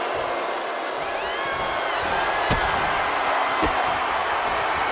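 An arena crowd in the wrestling game WWE 2K25 roars steadily, with scattered whistles and two sharp impact thuds cutting through the constant cheering.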